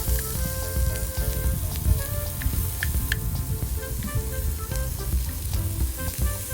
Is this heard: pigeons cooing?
no